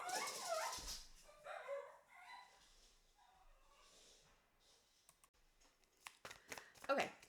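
A dog barks and yips in the background of a home while cats come around, with short sharp bursts clustered toward the end over faint room noise.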